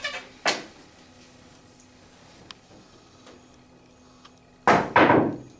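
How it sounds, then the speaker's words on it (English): A pool cue ball struck with an elevated cue and high English kicks off the rail and jumps another ball: one crisp tip click, a quiet pause, then a burst of louder ball clacks and thuds. "I'm going to elevate my cue, shooting with high English into the rail"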